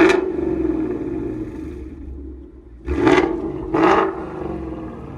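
A 2019 Ford Mustang GT with a 5.0L V8 and Corsa exhaust rumbles at idle, then roars through two sharp revs close by, with no talk.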